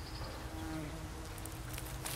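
Bees buzzing around blue borage flowers in a June garden, a faint, steady low hum of wings close to the plants, with soft rustling and outdoor ambience.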